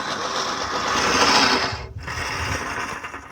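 Newer-generation wood reel lawn mower cutting grass, a close whirring, clattering blade spin that swells, breaks off briefly, then resumes.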